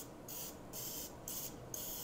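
Cooking spray from an aerosol can misted over chicken pieces before air frying, three steady hissing bursts in a row, close and fairly loud, with no talking.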